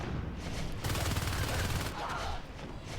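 Sustained rapid gunfire from a competitive shooter match, a dense continuous fusillade of overlapping shots throughout, loud and close, with game commentary voices underneath.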